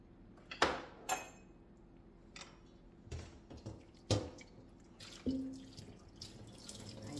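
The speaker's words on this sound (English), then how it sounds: "I'm going to pour this so it'll drain," Water poured from a cooking pot drains into a sink, heard as a series of splashes, gurgles and drips with a few clunks. It sounds close and fairly quiet, with no talking.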